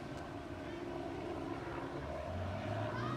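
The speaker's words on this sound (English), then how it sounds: "This police helicopter comes by every time." A police helicopter passes overhead outdoors near a grill, heard as a continuous low rotor and engine drone that stays fairly faint and steady throughout.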